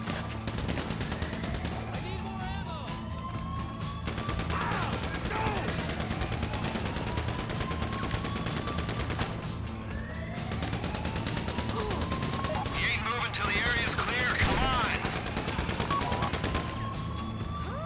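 GTA Online gunfire rattles in steady bursts and volleys during a prison break heist, loud and sustained, with shouting voices and engine noise mixed in.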